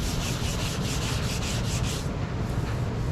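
Rough, steady rubbing and scraping of sanding on the metal trunk of a 1969 Dodge Charger R/T during dent repair, close and continuous, with a rhythmic back-and-forth stroke in the first part.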